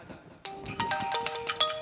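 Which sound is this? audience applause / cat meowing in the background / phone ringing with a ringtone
phone ringing with a ringtone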